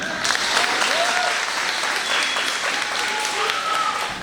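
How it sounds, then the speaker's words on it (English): An audience at a final school ceremony claps together in a dense, sustained burst of applause, fairly loud and even throughout, with a few scattered whoops and voices rising above the clapping. "Can y'all clap it up for that?"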